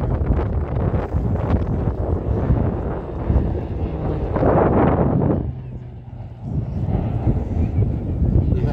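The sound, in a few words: Pilatus aircraft with PT6 turboprop engine flying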